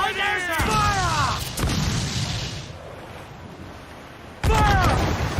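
Ship cannons firing in a naval battle in Assassin's Creed 4 Black Flag, two loud booming blasts several seconds apart with a rumbling tail between, mixed with shouted voices and game effects.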